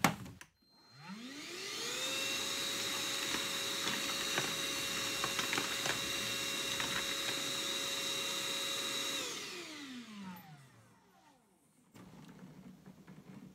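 Parkside Lidl PNTSA 20-Li A1 cordless vacuum on a 20V battery spins up to a steady high whine while sucking up screws and bolts, with sharp rattling clicks as the metal parts travel through the tube, then winds down to quiet.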